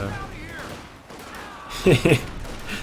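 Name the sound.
US mortar shells landing in video game Company of Heroes 2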